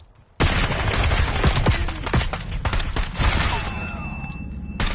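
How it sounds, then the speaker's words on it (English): Loud bursts of Black Ops 7 gunfire erupt after a brief quiet moment, with rapid automatic shots and heavy impacts that continue without a break. "I also feel like I have to yell over the gunfire in this game"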